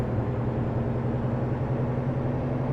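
A steady, low diesel engine drone hums continuously at an even pitch, a 505-horsepower Mack MP8 heavy truck engine running in a cab in a truck driving game, with no talking.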